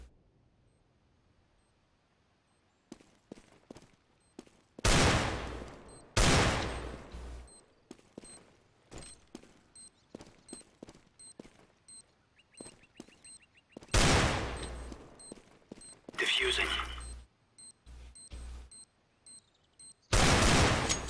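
Gunfire in a CS:GO match with the bomb planted, likely a Desert Eagle: loud, sharp shots and short bursts spaced over several seconds, with faint clicks and game noises in the quieter gaps.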